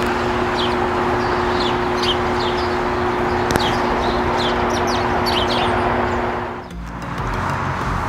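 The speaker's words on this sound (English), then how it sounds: "I heard a lot of birds chirping to my right over here." Many birds chirp and tweet on a prairie nature walk, a steady chorus of short repeated calls over constant outdoor hiss and a low hum, with a passing rumble near the end.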